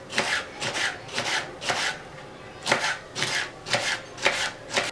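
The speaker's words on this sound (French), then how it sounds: "Je vous montre ici comment couper les fèves." Broad beans are cut very finely with a knife on a board for a sauce dish, a close rhythmic series of crisp chopping strokes in quick bursts.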